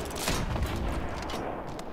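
Fortnite Mobile gunfire, a steady distant-sounding wash of overlapping shots blurring into a continuous crackle with no clear individual reports.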